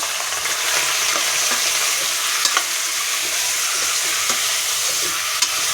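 Mutton pieces frying in hot oil for a curry give a steady, close sizzle with light stirring scrapes and a few sharp clicks throughout, no voices.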